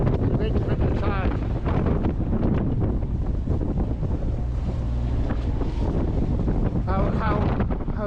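Strong 22-knot wind at sea while sailing from Caernarfon toward Bangor, a loud continuous buffeting roar across the microphone with water rushing beneath and brief voices breaking through.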